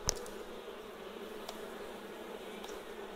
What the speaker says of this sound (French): On a les abeilles qui vivent, elles ont tiré les cellules déjà.